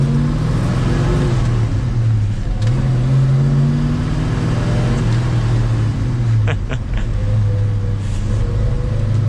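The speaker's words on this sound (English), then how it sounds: "We'll push the clutch in. We'll do a little bit of an acceleration." A 1969 Ford Mustang Mach 1 Super Cobra Jet pulls away from inside the cabin, its engine a steady low drone that rises in pitch as it accelerates, with a short bump of shifting partway through.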